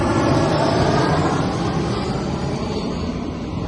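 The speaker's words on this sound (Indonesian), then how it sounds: "ada suara pesawat dan Makanya emang ini wilayah banyak banget pesawatnya." A loud, continuous broadband roar of an airplane passing overhead in an area with frequent air traffic, steady and heavy throughout and easing only slightly toward the end.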